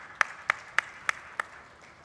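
Five evenly spaced, sharp claps ring out over a quiet hall during a corporate business excellence summit as a team comes on stage. The claps are isolated and moderately distant, with no crowd swell.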